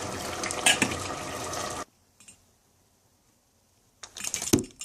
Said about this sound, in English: I'll stir that very gently with a plastic spoon, very gently